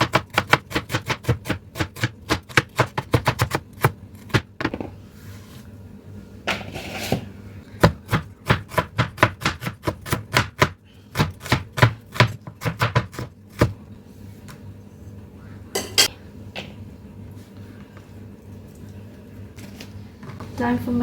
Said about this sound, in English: I'm going to use this to chop off my vegetables. I hope that my vegetable chopping is pleasing to your ear. Start by onion.